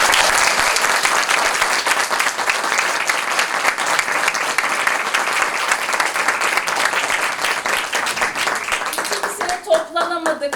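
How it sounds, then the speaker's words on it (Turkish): Audience at a youth workshop's year-end theatre performance applauding the child actors, dense sustained clapping filling the room, with a few scattered voices rising near the end as it winds down. "İlk önce onlara kocaman bir alkış"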